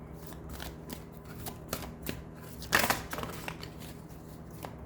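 Oracle cards are shuffled by hand in soft, quick riffling bursts, with one louder flurry midway, close and fairly quiet.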